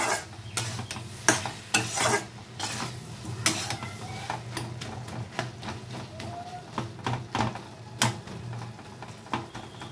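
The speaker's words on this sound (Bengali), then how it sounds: "এখন এগুলোকে আমি সব ভালো করে একটু মিশিয়ে নেব" Spiced stuffing mixed in a pan on a gas stove, a spoon scraping and rasping against the metal in irregular close strokes and clinks over a faint steady low hum.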